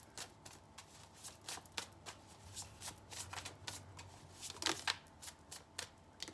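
Tarot cards shuffled by hand during a reading, quiet and close, with a run of brisk riffling bursts and soft slaps at an uneven rhythm, and no talking.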